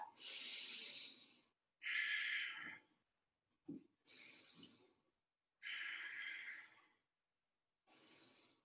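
Slow deep breathing during a yoga triangle pose, long airy inhales and exhales in a steady rhythm separated by short silences, close and soft with no talk.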